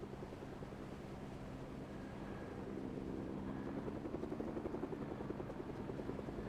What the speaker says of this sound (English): Do I want to shoot down this helicopter right now?